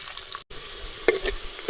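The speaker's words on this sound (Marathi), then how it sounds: "तर सगळ्यात आधी आपण तेलामध्ये कांदा परतून घ्यायचा." Onion frying in hot oil over a wood-fired village stove, a quiet steady sizzle with a brief dropout and a few soft clinks and stirring scrapes near the end.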